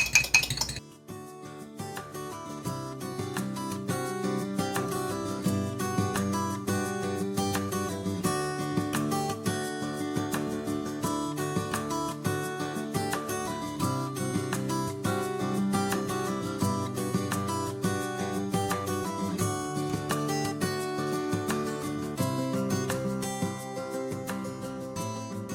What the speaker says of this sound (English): I'm using a fork because you can pierce the yolk first and then get a